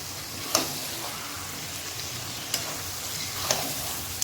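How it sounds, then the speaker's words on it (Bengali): Chicken masala made with yogurt fries in a pan, a loud, even sizzle, with three distinct spatula knocks spaced out across the stir. "ভালো করে কষে নেবো এটা"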